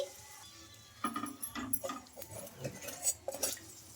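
A fried wheat-flour snack is lifted onto a plate, giving several close, light clinks and taps of utensil against plate in an irregular cluster, fairly quiet, with no talk.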